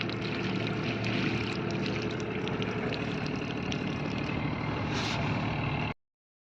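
A sailboat's engine runs in shallow water, a steady low diesel drone with a constant throb that holds evenly until it cuts out abruptly.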